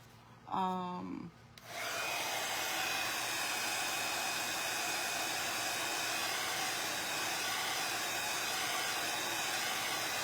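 A heat gun blows a steady, loud airy roar onto a WoodUBend wood piece being heated for decoupage, starting after a brief tonal click and continuing unbroken to the end.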